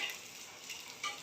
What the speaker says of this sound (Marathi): मी 2 मिनटं तांदूळ तुपामध्ये परतून घेतलेला आहे